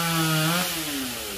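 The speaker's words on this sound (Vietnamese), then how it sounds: "Anh Tùng cưa nhánh này tới 3 tầng rồi các bạn, anh Tùng cưa bớt 1 tầng." A chainsaw drones close by while cutting through a large tree branch, its pitch dipping briefly as the blade bites into the wood.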